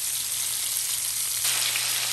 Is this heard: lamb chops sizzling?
yes